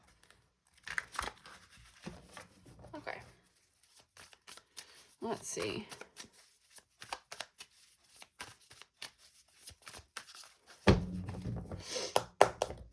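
Papery shuffling and soft tapping of tarot cards in short bursts, with a voice speaking briefly between the handling noises.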